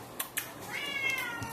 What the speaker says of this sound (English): That's my cat Simon protesting something.